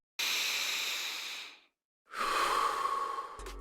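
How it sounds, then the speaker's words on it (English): A deep breath taken in and then let out slowly, close and clear, with a brief silent pause between the long airy inhale and the audible exhale. "take a deep breath"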